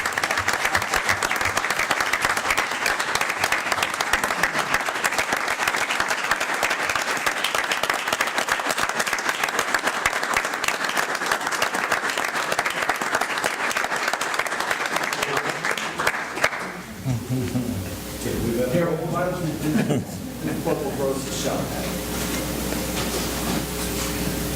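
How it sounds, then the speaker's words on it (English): A township board of commissioners meeting audience breaks into dense, sustained applause after a motion passes, loud and continuous for about sixteen seconds before fading into quieter room sounds and voices. "Now you can clap."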